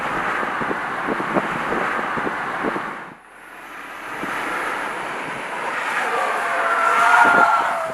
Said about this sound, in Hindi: टायर्स की स्क्रीचिंग की आवाज़।